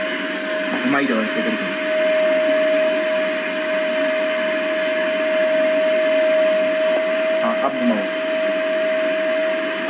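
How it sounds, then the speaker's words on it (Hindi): A vacuum cleaner runs continuously with a steady whine and a sharp tonal hum, held over someone's hair at home, while people talk and laugh over it. "अब तुम वैक्यूम क्लीनर जो है ना मेरे बालों के ऊपर करना"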